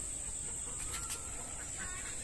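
Hens cluck softly while pecking at feed in an open outdoor spot, with faint, scattered clucks under a steady background hiss and a little nearby activity.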